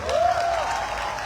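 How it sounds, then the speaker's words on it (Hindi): A short burst of audience applause during a wellness company speech, dense, steady clapping over about a second, with a thin tone gliding up briefly at the start. "कितनी तालियां होनी चाहिए"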